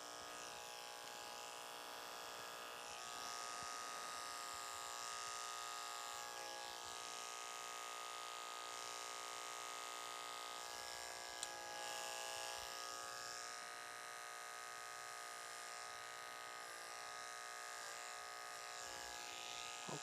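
Electric hair clippers buzz steadily and loudly while trimming a short Princeton-style haircut, a continuous drone with no talking.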